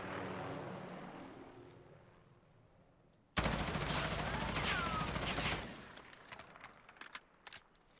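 An M4 rifle in the video game Warzone fires one sustained automatic burst of roughly two seconds, loud and dense, after a quieter ambient stretch, then trails off into scattered faint clicks.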